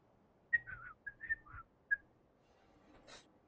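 A Genshin Impact character whistles a short, quiet tune of several brief, breathy notes with small pitch slides, alone, followed by a soft hissy burst at the end.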